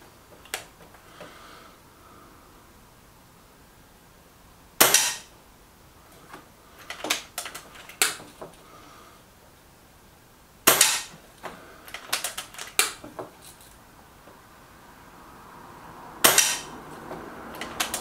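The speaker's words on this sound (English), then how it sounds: "I've got the Barracuda 18 set up, first target on the left, 10 shots." Reximex air rifle firing Barracuda 18 pellets at a target, three sharp loud reports spaced several seconds apart, with smaller clicks and mechanical handling noises between shots.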